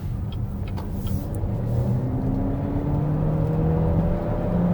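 BYD Seal U DM-i hybrid SUV pulling from inside the cabin, a low rumble with rising whirring tones as it gradually accelerates, steady and fairly loud.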